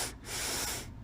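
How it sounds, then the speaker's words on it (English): A single slow exhale through a deliberately constricted throat gives a breathy, hissing windpipe sound that swells and fades over about a second, close to the mic, with no speech. "You can constrict your throat a bit when you breathe out to get that wind pipe-ish sound."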